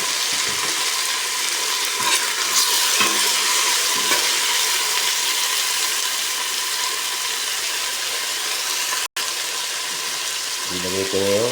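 Shrimp and mixed vegetables sauté in a hot pan, giving a steady loud sizzle and crackle with occasional stirring scrapes throughout, close and continuous.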